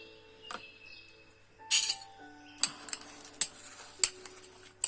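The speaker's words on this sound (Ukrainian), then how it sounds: "І за допомогою ложки трохи перемішаємо." A metal spoon clinks and scrapes against a bowl in a series of sharp, irregular taps, close by, with no voices, mixing flour and salt for dough.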